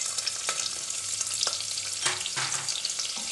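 Onion sizzles in oil with black pepper, bay leaves and green chillies for green chickpea pulao, a soft continuous frying hiss with a few sharper stirring clinks close by.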